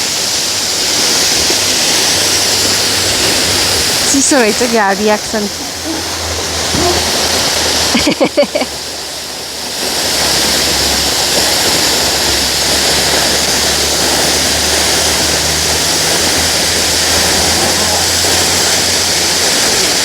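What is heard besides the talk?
waterfall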